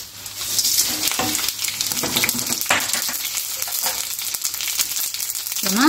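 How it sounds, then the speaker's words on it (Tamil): Loud, steady sizzling and crackling of mustard seeds, cumin and dried red chillies frying in hot oil for tempering, with occasional pops and stirring sounds. "கடுகு, சீரகம், காஞ்ச மிளகா இதை மட்டும் போட்டு நம்ம இப்போ தாளிக்க போகிறோம்."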